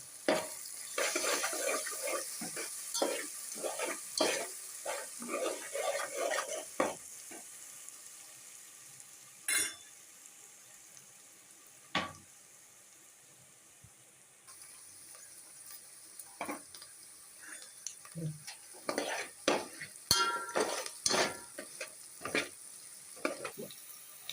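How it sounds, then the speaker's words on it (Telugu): Soaked lentils frying in oil for tamarind pulihora, a continuous crackling sizzle broken by repeated spoon scrapes and stirring clatter, close and moderately quiet, with a brief lull partway through. "పప్పు మంచిగా ఫ్రై అయిన తర్వాత"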